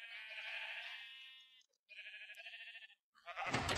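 A sheep in the Minecraft video game gives three clear, close bleats separated by short silences, the last one harsher and noisier.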